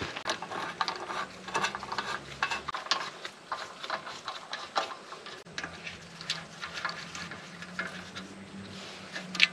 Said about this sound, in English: we can start putting the bolts back in